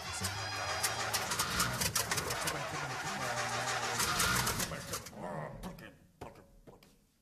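A radio-drama sound effect of an old taxi cab's engine cranking and turning over beneath continuous talk and background noise, then settling as the clip trails off.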